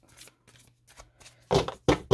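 Tarot cards shuffled by hand in several short bursts, faint riffles at first then three loud, close, crisp flurries near the end, with a low steady hum underneath.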